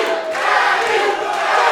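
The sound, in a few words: boxing crowd cheering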